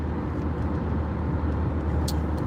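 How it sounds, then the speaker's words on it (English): Road traffic rolls past in a continuous low rumble of vehicles on the way toward Wofford College, steady and moderately close, with a brief hiss near the end. "traffic's starting to pick up a little bit, just a little bit, but nothing too crazy"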